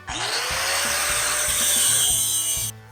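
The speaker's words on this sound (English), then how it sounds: "this guy was getting cut with no sparks, which means it's made of aluminum" A power saw cuts through an aluminum pipe with no sparks, a loud, continuous high-pitched grinding whine lasting a few seconds before it stops abruptly.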